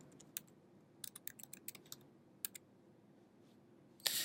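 Keystrokes on a computer keyboard, typed in short irregular bursts of crisp clicks with brief pauses between them, fairly quiet over a low room hum, ending in a louder, denser clatter of keys; no one speaks.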